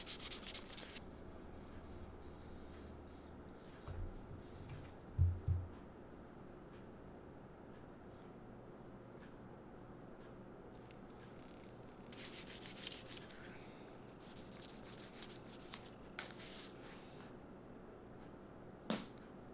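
Leather sanded with sandpaper on a plastic block while making a Viking knife sheath, soft close rubbing scratches in short bursts, with occasional knocks and quiet stretches in between.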